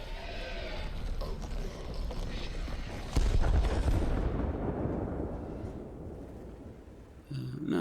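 Video game gunfire from a shooter, heard as dense, continuous booming blasts and rumbling explosions that swell into a heavy burst midway, then ease off before another surge at the end.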